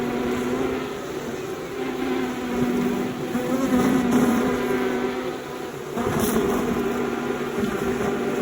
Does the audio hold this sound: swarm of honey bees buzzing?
yes